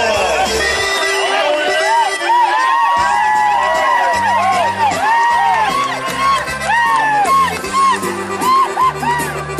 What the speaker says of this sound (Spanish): le damos el aplauso